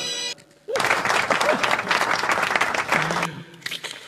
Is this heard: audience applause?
yes